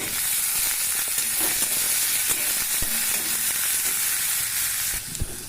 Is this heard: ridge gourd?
yes